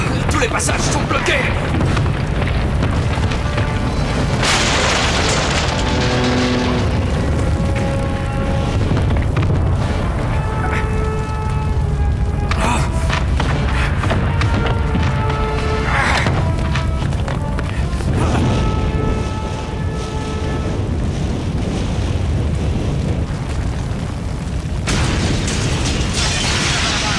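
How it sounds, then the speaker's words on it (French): Explosions during a disaster rescue scene, with repeated booms and bursts over a dense, loud rumble of chaos, mixed with shouting voices and mechanical clatter throughout. "Attention aux explosions."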